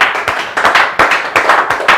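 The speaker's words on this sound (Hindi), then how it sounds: "एक बार जोरदार तालियां आप सभी" Loud audience applause at a direct selling motivational event, dense overlapping hand claps in rhythmic bursts filling the room, with no talk over it.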